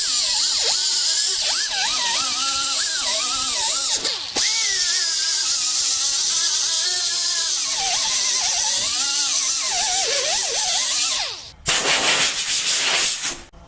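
Power sander grinding paint off a dented car body panel down to bare metal, a loud close whine that rises and falls with pressure, briefly cutting out before resuming harsher near the end.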